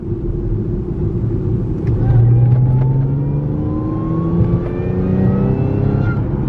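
A modified-exhaust Audi S4 heard from inside with the windows closed: a steady low rumble with engine tones rising and falling through several pulls, loud and continuous for the whole stretch.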